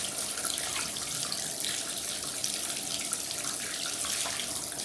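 Tap water pouring steadily into a sink to soak a sock, a continuous close splashing hiss with no voices.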